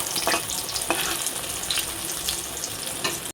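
Eggplant slices fry in hot oil with a loud, steady sizzle and crackle that does not let up, broken by a few sharp clinks of stirring. No one speaks.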